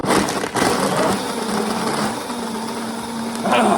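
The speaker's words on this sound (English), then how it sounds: "I'm gonna make this blender rage." A blender runs steadily for a few seconds, whirring and churning a peach schnapps mixed drink, loud and close with a slight surge near the end.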